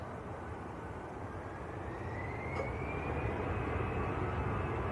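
An Ascend Airways airliner moves at Manchester Airport, a distant, steady jet engine roar with a faint rising whine, heard alone without talk.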